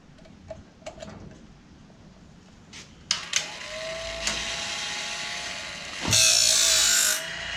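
A Woodland Mills Grindlux 4000 sharpens a sawmill blade: sharp ticks and clicks as the blade indexes, then a rising motorized whine and a loud grinding hiss as the wheel meets a tooth, all close and steady.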